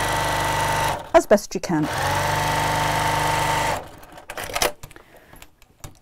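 A sewing machine stitching a tote bag seam with a lengthened stitch runs in one sustained close burst after some clattering handling noises. Brief clicks and taps follow, with a voice speaking briefly.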